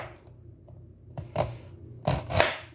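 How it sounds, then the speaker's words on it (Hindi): A knife chops an onion finely on a board in a few quiet taps followed by two louder clusters of quick strikes close by, with no talk over them. "मुझे बारीक बारीक काटनी है प्याज।"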